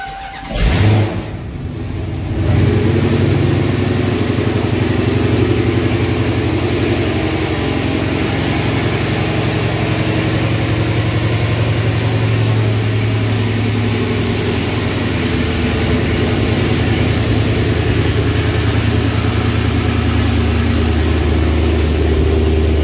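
A Dodge Hellcat's engine fires up with a sharp burst, then settles into a deep, loud, rumbling idle with slight rises in revs, heard close and alone for over twenty seconds.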